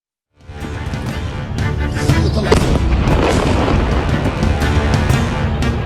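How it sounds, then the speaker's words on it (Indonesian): Airstrikes hit a residential area in South Lebanon, setting off heavy, sustained explosions that roll into a loud, continuous rumble with sharper blasts layered over the top. "Ledakan besar terjadi usai serangan udara dijatuhkan di permukiman warga."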